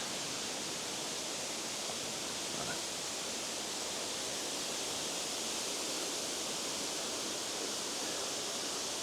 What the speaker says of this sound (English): the sound of that water falling is very, very soothing.